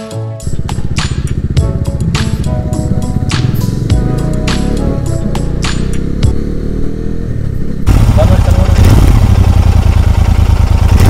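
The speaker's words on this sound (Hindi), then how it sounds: "गाड़ी फिर से बंद हो रही है" A BMW G310 GS motorcycle engine runs with loud, rough, stuttering firing as it falters and cuts out, followed by a steadier, different drone.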